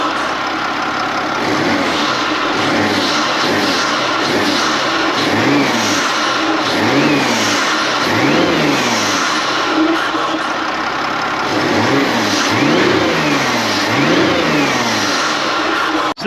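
Peugeot 407 Coupe with a 3.0 HDi diesel and a Jetex performance air filter, revved repeatedly and loudly nearby, a steady series of rising and falling engine swells over a continuous idle.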